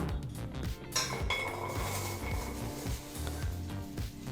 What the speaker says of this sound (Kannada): ಈಗ ಬೆಂಡೆಕಾಯಿನ ಬಾಂಡ್ಲಿಗೆ ಹಾಕ್ಕೊಳ್ಳೋಣ